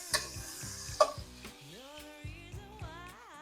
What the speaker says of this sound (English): I'm gonna stir fry all these veggies.